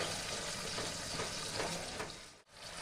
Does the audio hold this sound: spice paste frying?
yes